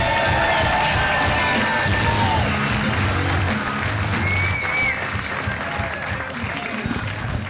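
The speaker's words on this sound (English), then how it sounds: "Ladies and gentlemen, a big round of applause for Kyle Palaskey." A class audience greets comedian Kyle Palaskey with loud, close applause mixed with cheering, whoops and shouts, a dense roar that holds throughout and eases slightly toward the end.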